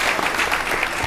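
A short burst of enthusiastic applause from a crowd, dense and steady clapping with no voices.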